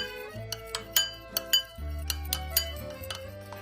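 A spoon clinks repeatedly against a glass while cornstarch is stirred into cold water, giving a quiet series of sharp, irregular taps close by.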